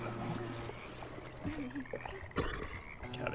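A frog croaks in a woodland video game: a few short, rough croaks sit over quiet game ambience, with a voice briefly heard alongside.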